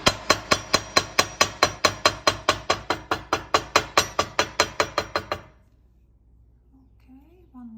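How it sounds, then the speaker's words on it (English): A metal jewelry ring piece resting on a block is struck about twenty times in a fast, even run of sharp, ringing hammer blows. The hammering then stops and is followed by near silence with a faint voice. "So I will take my block, put it on the side, and just hammer it."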